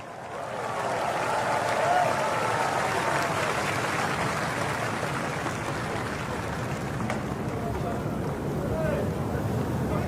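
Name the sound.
audience applause for the virtual choir performers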